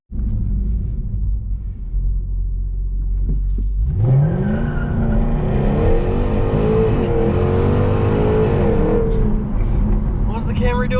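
A Toyota Camry XSE V6 idles with a deep steady rumble, then its engine climbs sharply in pitch as it accelerates, holding a loud, close, wavering drone as it cruises.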